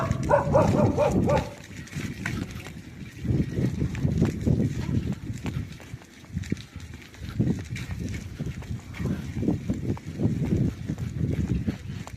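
A dog barks repeatedly in short bursts, fairly close, over outdoor background noise.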